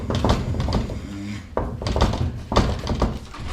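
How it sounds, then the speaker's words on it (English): Heavy, loud thuds of a fist banging on a front door in the dead of night, a few separate bursts of knocking spread across a couple of seconds, close and echoing slightly in a 1950 home setting. "suddenly there's a loud banging emanating from the living room front door"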